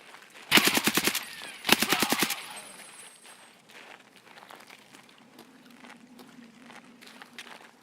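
Two sharp bursts of rapid AKM automatic rifle fire in Escape from Tarkov, loud and close, each lasting about half a second, followed by quieter scuffling and movement sounds.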